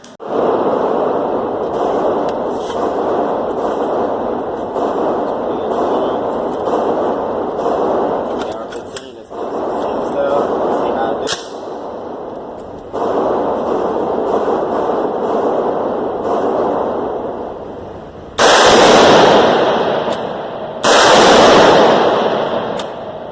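An M16-style AR-15 rifle fired at a shooting range, a long run of rapid, evenly spaced cracks over a constant loud background, with two short, harsher bursts near the end.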